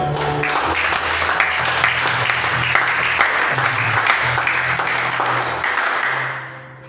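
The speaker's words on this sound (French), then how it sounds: "Applaudissez le Seigneur." A church congregation applauds in praise of the Lord, a dense, loud, continuous wash of many hands clapping that holds steady for several seconds, with low sustained tones running beneath, then fades out at the end.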